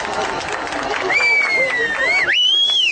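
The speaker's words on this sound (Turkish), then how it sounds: "Onlara da bir alkış." Festival audience at a Boyoz baking event in Izmir applauds and cheers in a lively outdoor crowd, close and loud, while a voice calls out over the noise.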